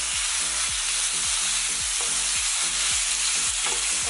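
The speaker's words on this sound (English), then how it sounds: "I'm just gonna be kind of like stir frying the steak a bit" Steak stir-fries in hot oil in a frying pan on medium heat, a dense, continuous sizzle with a rhythmic scraping stir repeating about twice a second, close and steady without speech.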